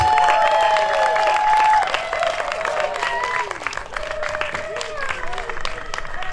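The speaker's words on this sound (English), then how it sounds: "Can I have another round of applause for that performance?" Crowd applause and cheering at a Juneteenth celebration after a performance, dense clapping with a couple of whistles and voices shouting over it, steady then slightly easing.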